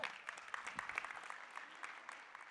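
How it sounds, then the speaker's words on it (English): Sparse, scattered clapping from an audience after an app presentation, a thin patter of individual hand claps that stays quiet and uneven throughout. "That's a weak clap for that."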